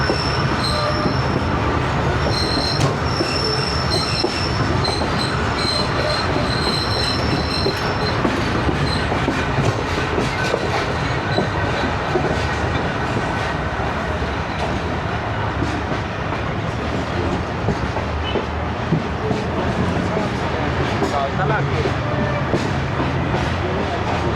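A passenger train at Chaklala railway station in the Rawalpindi division, heard from on board an old AC sleeper carriage, gives a loud, steady rumble of rolling wheels with rattling, clacking and squeals throughout, while voices murmur underneath.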